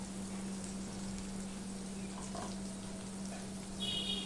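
Chopped onion, garlic cloves and green chilies fry in a pan for a fish curry, giving a steady close sizzle that stays even throughout with no talking.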